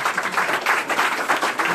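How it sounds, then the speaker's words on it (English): A crowd claps in a dense, continuous wash of applause, fairly loud and close, with a few voices mixed in. "Give yourselves a big round of applause."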